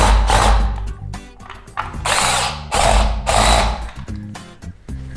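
A power drill drives a screw to fix laminate panels to a kitchen wall, with loud repeated whirring bursts and a ratcheting clutch chatter close up, alone without speech.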